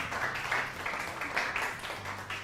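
A group of high school students applauds in a classroom or hall, a moderate, steady wash of many hands clapping from a short distance, continuing without talk.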